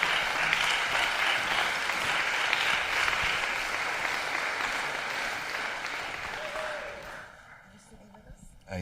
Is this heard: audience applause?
yes